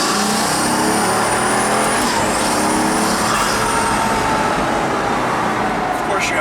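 Pagani Huayra Vulcan pulling hard in second gear, a loud sustained engine roar with rising whine heard from inside the car, constant and dense throughout.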